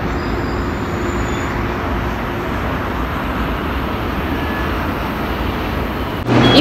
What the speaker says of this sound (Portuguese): Em frente ao apartamento tem uma estação de metrô.